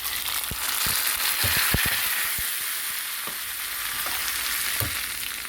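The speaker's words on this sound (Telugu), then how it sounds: "తాలింపు బాగా ఎగిపోయింది. ఇది మనం పప్పులోకి వేసుకున్నామండి." Loud, steady sizzling of a hot tempering poured into raw mango dal, with a few sharp pops and clicks scattered through.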